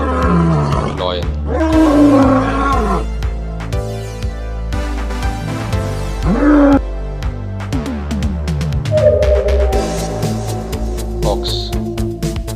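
A lion gives a series of loud, deep roars with falling moans between them. The calls repeat in uneven bursts across the whole stretch and stay close and dominant.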